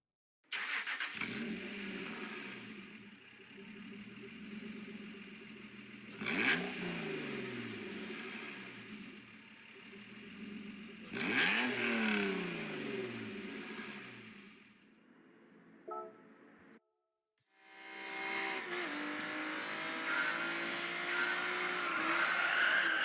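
Race cars in a driving video game roar through repeated rising engine sweeps, squealing tires and skids, each pass loud and close. A short silent gap is followed by another engine run.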